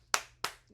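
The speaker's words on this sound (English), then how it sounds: "Why is that the only normal clap Dumbledore gave?" Dumbledore claps in the Harry Potter and the Philosopher's Stone film, three crisp, evenly spaced single claps that ring out sharply against near silence.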